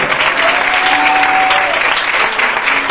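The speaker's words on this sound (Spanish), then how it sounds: "Aplaude a Dios, por favor" Congregation applauding God in a church, a dense steady wash of many hands clapping at once, loud and close, with no pause over three seconds.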